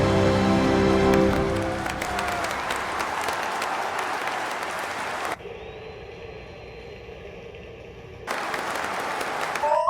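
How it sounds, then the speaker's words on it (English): Prolonged applause from a crowd, loud and dense at first, then thinning to a steadier patter with an abrupt cut to a quieter, filtered stretch before the clapping returns. "The applause continued for quite a while"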